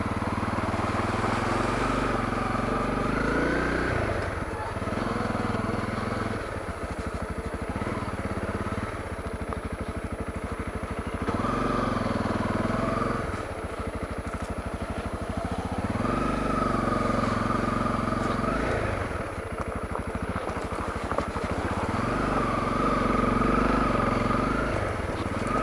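A Honda CRF250L dual sport motorcycle ridden along a rocky forest trail near Rock Creek in Mark Twain National Forest, its engine close and steady, revving up and easing off in repeated cycles.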